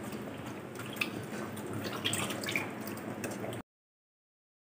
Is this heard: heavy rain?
no